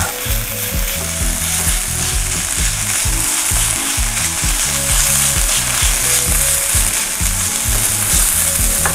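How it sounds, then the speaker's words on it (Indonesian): Spice paste for chicken pepes sautéing in a Teflon pan, a loud, continuous close sizzle with a rhythmic, clattering scrape of stirring running throughout. "kita tumis sampai harum ya teman-teman"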